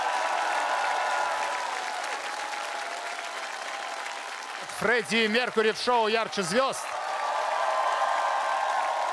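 A television studio audience applauds after a tribute performance, clapping that fades under a host's voice while a sung, melodic vocal phrase cuts in briefly midway.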